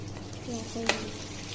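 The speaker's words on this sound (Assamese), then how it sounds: "এতিয়া আমি তেলত নহৰু আদা অকণ ভাজি দিলোঁ" Garlic and ginger sizzle gently in hot oil, with a faint voice in the background and a single sharp clink of a utensil against the pan.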